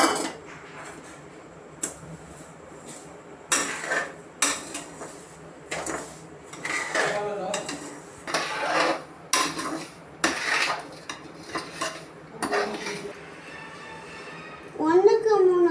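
Metal utensil scrapes and clinks against a pan over medium flame, roasting semolina for jackfruit kesari, in irregular strokes, a steady stirring rhythm with quiet gaps between, close by.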